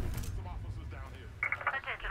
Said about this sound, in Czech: A já teď nemůžu odvolat telefony a on volá Benga